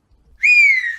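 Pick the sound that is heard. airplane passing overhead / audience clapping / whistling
whistling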